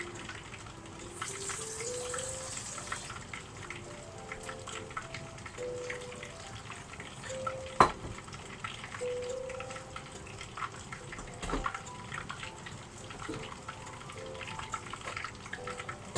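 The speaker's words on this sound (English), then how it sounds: "I'm just going to put some water in now" Water trickles and splashes into a bowl of seasoned batter mix, a faint, uneven stream with occasional small knocks, quiet and close throughout.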